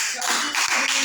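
Audience clapping at a Hindi poetry recital by Kavi Om Prakash: dense, continuous applause from many hands, fairly close and loud, holding steady for the whole short stretch.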